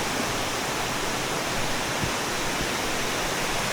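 A waterfall in the Blue Mountains of New South Wales, Australia, gives a steady, close, full-bodied rushing roar that does not let up, with no voices over it.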